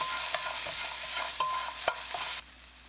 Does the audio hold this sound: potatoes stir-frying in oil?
yes